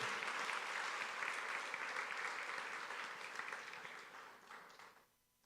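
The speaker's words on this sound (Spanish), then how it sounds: "Aplauda al Señor." A church congregation applauds during a Spanish-language sermon, with sustained, faint, distant clapping that gradually thins and then cuts off near the end.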